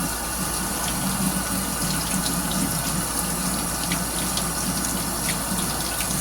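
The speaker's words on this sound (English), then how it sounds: "I'm just washing everything, even though it gets cooked." Vegetables are rinsed under a running kitchen tap, a steady close rush of water splashing into the sink with faint rattles of handling and no speech.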